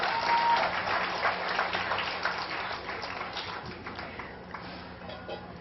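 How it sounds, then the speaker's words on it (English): Audience applause at a county fair scholarship pageant, dense clapping from a large crowd that starts strong and slowly tapers off over several seconds, steady and unaccompanied by talk. "Let's give them a big round of applause."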